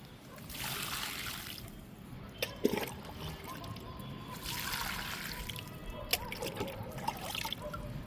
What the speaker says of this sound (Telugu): ఇప్పుడు వాటర్ ఇచ్చేద్దాం.